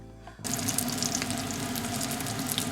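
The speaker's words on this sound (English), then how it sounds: "Cook it over mid-heat until the bottom side is slightly brown." Tofu coated in potato starch fries in a pan over medium heat, a loud, dense, continuous sizzle that starts abruptly and holds steady, close up with no voices.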